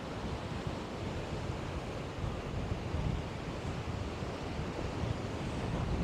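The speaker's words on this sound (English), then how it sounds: "Can you hear that wind? I've got a windshield on this mic, and I bet that windshield is not keeping this wind at bay." Strong seaside wind buffets a windshielded microphone on the Blackpool seafront, with surf rolling underneath in a steady, dense roar that never lets up and carries no voices.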